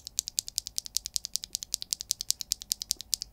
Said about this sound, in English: the Zakus are much louder in their bottom out than any of the frankenswitches